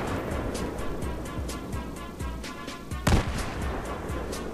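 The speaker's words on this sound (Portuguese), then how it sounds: "Já dá 3 tiros de bazuca." Rapid rhythmic booming bazooka fire in Battlefield 3 pounds steadily throughout, with one larger blast near the end standing out above the repeated shots.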